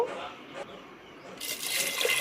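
Water pours steadily into a pressure cooker pot of Andhra-style pappu charu, a soft close stream that swells into a brighter gush near the end.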